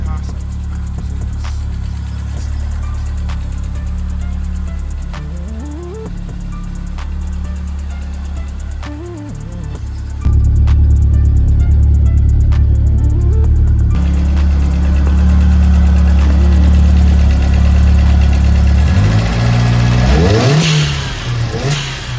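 Ford Fiesta RS Turbo engine, boosted 2000 build, running loud and close, idling with occasional throttle blips and a rising rev near the end, a steady mechanical drone throughout.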